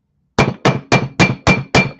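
A rawhide hammer strikes a sterling silver ring seven times. The blows are loud, close and evenly spaced at a steady rhythm, each one a sharp knock with a short ring after it, and no one speaks.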